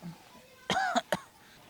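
Two sharp coughs in quick succession, close and fairly loud, following a faint background voice.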